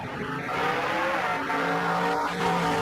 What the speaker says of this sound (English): A car moving towards me sounds high-pitched.